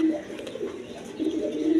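Gorra pigeons offered for sale coo in a low, continuous rolling murmur, fairly close and steady, with no talk over them.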